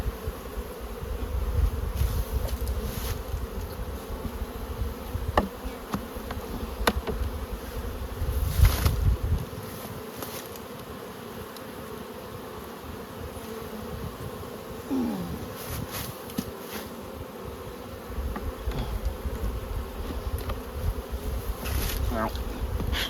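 A thick cloud of honey bees hums loudly and continuously around opened beehives in Crossmaglen, with low rumbling handling noise beneath and no clear speech.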